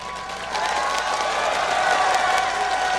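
A large esports crowd at a League of Legends quarterfinal cheers and applauds steadily, a dense roar of clapping and shouts that swells slightly and holds loud throughout.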